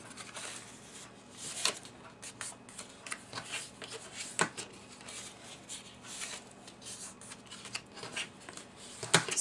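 A bone folder rubs back and forth along score lines on paper, giving soft scratchy strokes and light taps, close and quiet with no talk.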